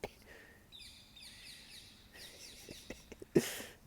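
Small birds sing outdoors in faint, repeated high chirping phrases, with a squirrel nearby adding scattered rustling and clicks and a brief sharper burst near the end.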